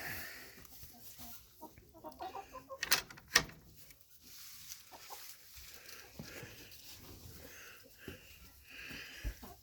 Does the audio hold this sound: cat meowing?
no